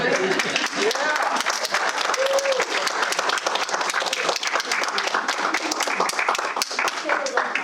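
A Toastmasters club audience gives a round of applause, a full, lively burst of many people clapping nearby. Voices and a brief cheer can be heard mixed into the clapping as it continues.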